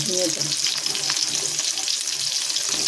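Pointed gourd (potol) fries in a pan with a steady, loud, close sizzle and crackle, with light stirring scrapes running through it.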